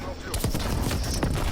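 Suppressed AK bursts from Call of Duty gunplay, a rapid muffled stream of shots running the length of the clip, with a voice talking over it.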